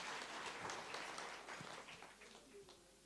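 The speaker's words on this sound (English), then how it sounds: "Let's give her a round of applause" Audience applause at a national teaching awards ceremony honouring a prize winner, a faint, distant patter of clapping that tapers off toward the end, with a voice briefly audible.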